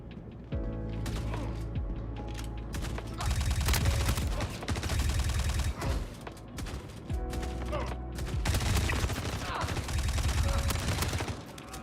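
Automatic gunfire in the space shooter Star Citizen, rapid bursts of full-auto shots crackling in repeated volleys, loud and close, with mechanical clatter between bursts.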